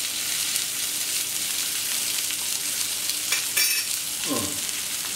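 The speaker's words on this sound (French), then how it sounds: "Donc ici j'ai choisi de vous faire des petites spicy potatoes qu'on va terminer de cuire sur la plancha." Spicy potatoes frying on a plancha give a steady, close sizzle throughout, with brief stirring or scraping near the end and no talking.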